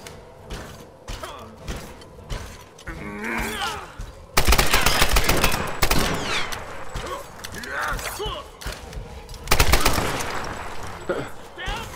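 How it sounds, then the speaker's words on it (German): Gunfire in a Tomb Raider video game: loud bursts of rapid automatic fire come in long stretches, mixed with creaks and other game effects, with a voice talking at times. "ich verschwende meine Munition schon"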